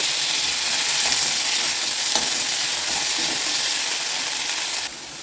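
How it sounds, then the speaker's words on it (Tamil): Tomato, onion and green chilli sizzle in a pan, a loud, even frying hiss that holds steady throughout and drops slightly near the end, with no talking. "பச்சை மிளகாய் இது எல்லாத்தையும் நம்ம நல்லா ஒரு தடவை வதக்கி வச்சுக்கலாம்"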